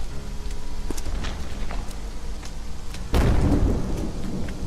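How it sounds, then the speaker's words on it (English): Rain and thunder in the video game The Axis Unseen: a steady rain hiss with low rumbling throughout, then a loud, close thunderclap that swells and lingers over the downpour. "and also it's raining, so that makes it even worse."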